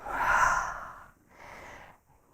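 A long, audible exhale during a morning yoga session, a strong breathy outflow followed by a softer second breath and a faint tail, close and alone without talk.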